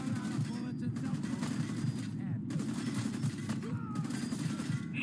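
Dense, continuous gunfire rattles in the video game Fallout 4, rapid bursts layered over a steady low rumble, with someone talking over it.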